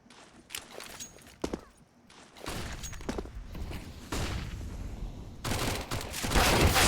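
Gunfire from a MAC-10 in Counter-Strike, in a competitive match at middle. Rapid bursts of automatic shots alternate with quieter footsteps and movement, and the firing grows denser and louder toward the end.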